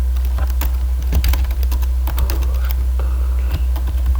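Steady, close typing on a computer keyboard, with quick irregular key clicks running continuously over a constant low hum.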